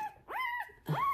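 A newborn Standard Bernedoodle puppy whimpers in two short, high, rising-and-falling cries, close and soft, alone with no talk.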